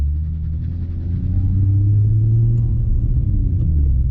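A Nissan 350Z fitted with cheap brake rotors drives along, heard from inside the cabin as a loud, steady, low engine and road rumble with no voices.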